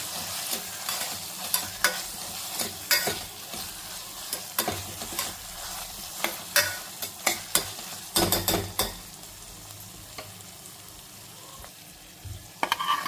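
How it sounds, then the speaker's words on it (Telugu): Taro root and tomato pieces tossed into a hot pan with cumin and onions, giving irregular stirring clatters and bursts of sizzling that rise around the middle, then settle into a quieter simmer. "ఇప్పుడు ఇందులో మనం చామ దుంపలు టొమాటో వేసేసుకోవాలి"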